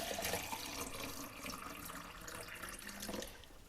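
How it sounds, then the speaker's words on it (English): Tap water running steadily into a 1 litre jug for a photographic stop bath, a close, continuous rushing splash that stays at a fairly even level. No voices. "I'm just going to fill it with this water that's already at 20 centigrade."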